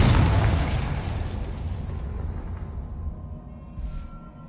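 A Confringo fire spell explodes in the Hogwarts Legacy video game, a loud close burst that hits at once and then dies away into a fading rumble, heard alone without speech.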